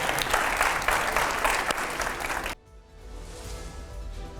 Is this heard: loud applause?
yes